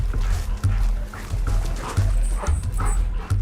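Police dog Riley, tracking a suspect who fled from a car, whimpers and pants close by in short rhythmic bursts, with a few yips breaking through a steady low rumble of movement.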